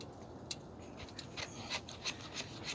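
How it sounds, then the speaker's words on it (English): The back of a knife scrapes thin wood shavings for a survival fire, a faint series of short, crisp scratches at a loose, uneven rhythm close by. "I'm using the back of my knife to get shavings off."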